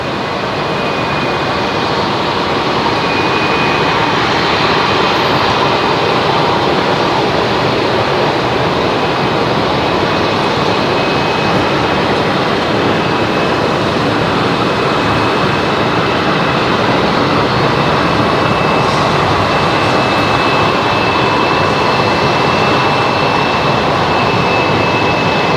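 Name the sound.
aircraft at Brisbane Airport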